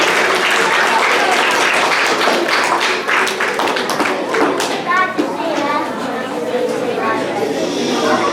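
An audience in a school hall applauds loudly as students walk up onto the stage, with steady clapping that carries on throughout and children's voices and chatter mixed in.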